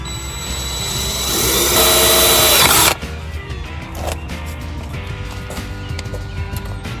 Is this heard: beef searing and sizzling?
no